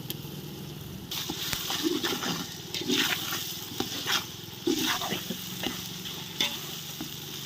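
Ginger-garlic paste frying in a pan over browned onions gives a steady close sizzle, broken by repeated scraping and clinking of the stirring spoon.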